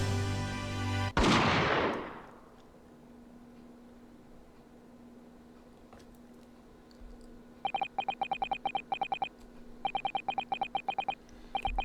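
A gunshot in The Great Ace Attorney Chronicles video game: a single sharp, loud blast that rings out and decays. After a stretch of low hum, rapid bursts of electronic text-blip clicks follow.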